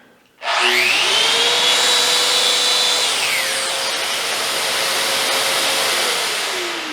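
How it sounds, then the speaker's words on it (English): A plug-in power tool starts up alongside a running dust extractor, a loud steady whine with a rising pitch at switch-on that settles into a continuous drone, close by and without talk. "plug the dust extractor in, and we'll turn the tool on"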